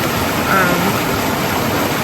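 Lehman Creek rushes in a steady, loud broadband wash of flowing water at close range, with no break or variation.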